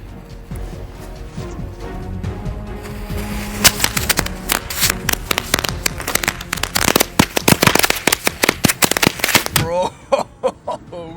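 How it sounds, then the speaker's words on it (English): Firecrackers bursting around a LEGO build, a rapid string of sharp, loud cracks and pops that thickens into a dense crackling barrage, with voices talking faintly underneath. "That was a very successful explosion."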